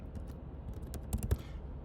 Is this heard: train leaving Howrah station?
no